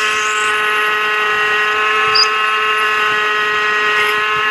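A lathe runs steadily while a center drill cuts into a boiler flange, a constant loud machine whine with steady tonal hum and a faint brief squeal, close and alone without talk.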